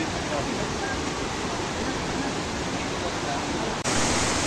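Sprite Falls in Majayjay, Laguna roars as a dense, constant rush of falling water, loud and near, with a brief dip and jump in level toward the end.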